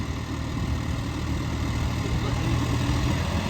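A John Deere four-wheel-drive tractor engine runs steadily nearby, a low, continuous diesel rumble with a fairly even throb throughout.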